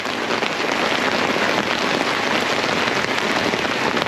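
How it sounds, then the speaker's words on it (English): Heavy hail pelts an umbrella at a gravel pit during a carp fishing trip, a dense, loud, steady drumming roar that continues without a break and carries no talk. "It was pretty heavy hail"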